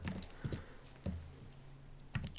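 Quiet, close computer keyboard typing in irregular bursts of a few keystrokes each, soft clicks with pauses between and no talking.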